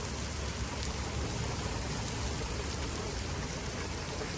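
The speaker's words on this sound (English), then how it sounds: "I just want to give you guys a detailed look of the rain." Rain pours down steadily in Florida, a dense, even hiss of drops hitting surfaces close by, with no voices over it.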